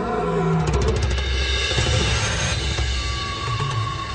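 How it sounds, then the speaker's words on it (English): A large male lion roars in the wild, a loud, close, rumbling bellow that fills the clip with deep throaty grunting. "from the sound of it, a large male lion."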